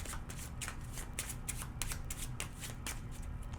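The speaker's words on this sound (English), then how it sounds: "And give it a good shuffle." A deck of board game cards is shuffled by hand, a rapid series of crisp riffling flutters and snaps, close and fairly quiet, with no one talking.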